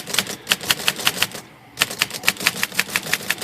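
Typewriter keys, just repaired for sticking, are struck in a quick, steady run of crisp clacks. After a short pause the typing resumes at the same even pace, close and with no talking.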